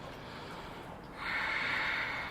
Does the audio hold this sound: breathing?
yes